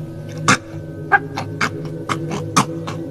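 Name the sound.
voice imitating someone chewing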